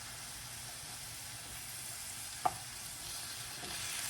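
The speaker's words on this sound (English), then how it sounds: "you can see a little more of the avocado oil popping up and the grease from the meat" Beef and onions fry in avocado oil in a pan with a steady, quiet sizzle, broken by one sharp pop or clink midway; no one speaks.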